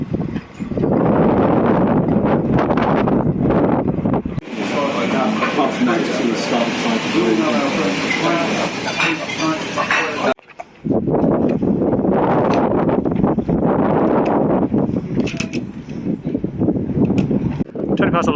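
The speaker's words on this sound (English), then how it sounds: "very windy, even in the marina" Strong wind buffets the microphone in a marina at Ramsgate, roaring steadily and loudly with gusty rumbling, while someone talks over it throughout.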